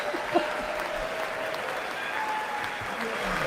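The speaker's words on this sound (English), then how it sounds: "Are they clapping at that joke" A large audience at a live address applauds steadily after a joke, a dense, continuous wash of clapping that holds at an even level with faint voices underneath.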